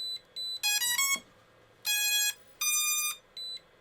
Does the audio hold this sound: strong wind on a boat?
no